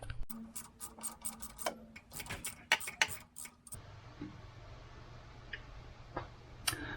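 Undoing 12 mm bolts on a GR Corolla shifter: a quick run of close, sharp ratchet clicks and scrapes for a few seconds, then quieter with only a few isolated ticks.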